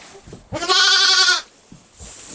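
A newborn lamb, kept inside a house to protect it from the cold, lets out one loud, close, wavering bleat lasting about a second, with quieter rustling before and after.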